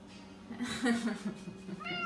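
A black kitty meows once in the middle of the clip, then gives a shorter, higher mew near the end, close and moderately loud against quiet room noise.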